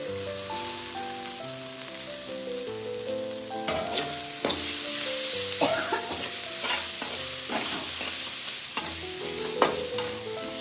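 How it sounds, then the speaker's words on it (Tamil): Mint leaves frying in a pan while being stirred for a gongura thokku, a steady sizzle broken by repeated scraping strokes, heard under music. "இப்போ புதினாவை போட்டுக்கலாம்."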